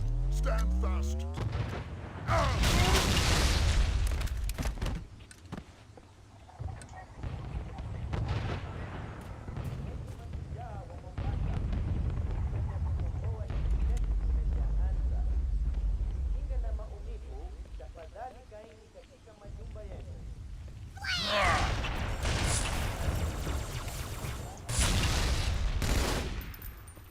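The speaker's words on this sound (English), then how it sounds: "grenade chains are back" Grenades set off chain explosions in the Halo 2 game, loud booming bursts clustered at the start and again near the end, with crackling battle noise and occasional voices in between.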